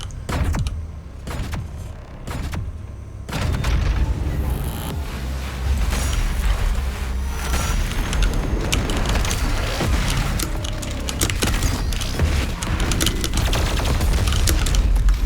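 Combat against a Mancubus demon in Doom Eternal, with heavy gunfire, blasts and mechanical clanks running dense and loud throughout, after a quieter opening stretch.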